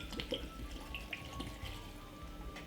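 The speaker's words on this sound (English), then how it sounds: "I'm going to pour the red label wine in it like this" Red label wine being poured over mixed fruits soaking for a Jamaican black cake, a faint trickling liquid pour with small drips, quiet and close with no talk.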